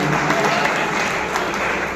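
Crowd at a political party rally claps loudly to welcome a speaker, a dense steady patter of many hands with faint voices mixed in.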